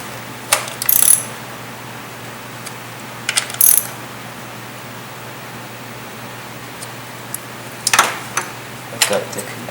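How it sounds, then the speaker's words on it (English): A ratchet with a 10mm socket tightens an ignition coil on a BMW E36, giving several short bursts of quick metallic clicking over a low steady hum. "Tighten it down with the 10mm socket."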